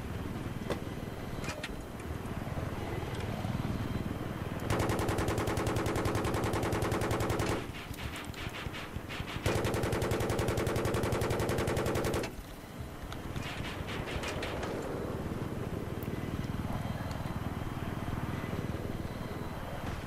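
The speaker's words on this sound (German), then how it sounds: "Da wird doch noch geschossen." Battlefield 3 gameplay with sustained bursts of automatic gunfire, loud and rapid, set against constant background game noise and intermittent shots, in two long clusters of firing.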